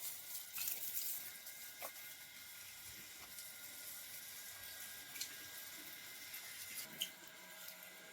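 Water from a running motor pump sprays onto plants, a soft steady hiss and splash held at low level throughout, with a few faint clicks and knocks over it and no talking.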